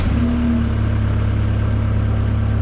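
A car engine runs at a steady, loud, close idle-like drone with a low hum and a faint higher tone during a roadside breakdown; no clear cranking or revving, and no one talks.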